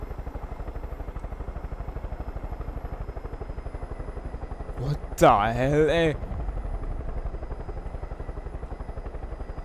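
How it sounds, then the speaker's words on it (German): A helicopter in Far Cry 5 thrums with a fast, even rotor chop throughout, close and steady, while someone speaks briefly over it and a sharp sweeping whine with clatter cuts in near the middle. "Ah, ich will meinen Helikopter nicht opfern."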